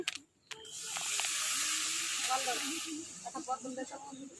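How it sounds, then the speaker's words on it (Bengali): Water poured into a hot pan of rui fish curry hisses sharply at once. It settles into a loud, steady steaming sizzle, then fades as bubbling pops and faint kitchen sounds take over. "আমি এখন জল দিয়ে দিচ্ছি।"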